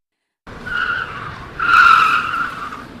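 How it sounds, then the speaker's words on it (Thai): Sound effect for a radio drama: a car roars and its tyres skid across a road, with a rising, sustained screech that swells midway and then fades, loud and alone. "เสียงรถยนต์ดังสนั่นวันไหวไปทั่วท้องถนน"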